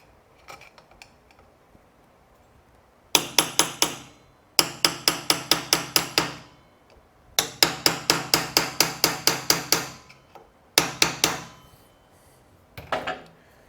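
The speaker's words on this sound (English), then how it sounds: "lightly hammer it down, just so there's enough room to get a screwdriver in there" Repeated metal-on-metal hammer taps strike a screwdriver to bend a lock washer during a 2017 KTM engine bottom-end disassembly, coming in quick bursts of five to ten sharp, close blows separated by short pauses.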